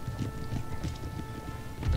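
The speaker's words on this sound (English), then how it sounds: "There's a horse running in front of our lines." A horse running in Napoleon: Total War, with soft rhythmic hoof clip-clops over a low battlefield rumble and a faint steady tone, moderately close and without talk.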